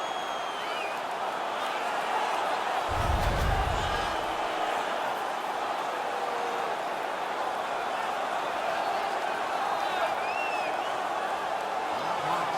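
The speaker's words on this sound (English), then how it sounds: "The crowd is so pumped right now." An arena crowd at a video-game hockey playoff match roars and cheers after a fight, a sustained wash of noise with a brief low thump partway through and no clear voices on top.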